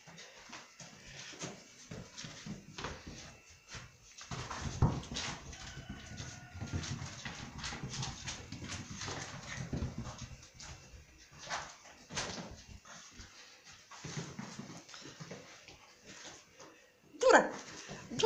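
A dog whimpers and whines on and off for a long stretch on a cool morning outdoors, fairly faint and close, with a few sharp yelps and bird calls in the background.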